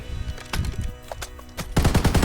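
Rapid machine gun bursts from the Minecraft TaCZ gun mod, with short separate volleys giving way to a loud sustained stream of shots at the end, close and alone.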